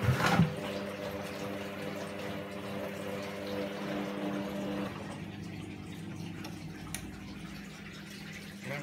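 A Hoover Optima 7kg washing machine on a short wash, steadily rinsing and pumping water out in a continuous low hum and gurgle, with a faint tonal drone that drops away partway through.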